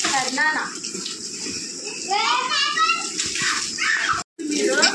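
Children and adults splash and play in water at home, with continuous splashing and gushing under excited children's shouts and chatter throughout.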